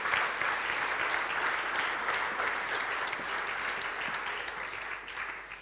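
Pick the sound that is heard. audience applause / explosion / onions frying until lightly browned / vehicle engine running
audience applause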